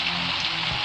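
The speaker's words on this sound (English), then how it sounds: "it's raining." Rain falling steadily outside, a dense continuous hiss of drops on surfaces, brief and unbroken with no voices.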